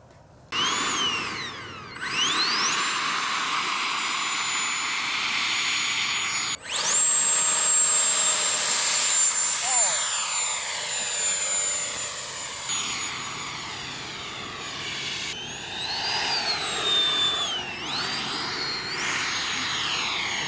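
A 3D-printed RC Harrier VTOL model aircraft whines steadily with a high electric-fan pitch that swoops up and down as throttle changes during a hover and precise landing, loud and continuous throughout.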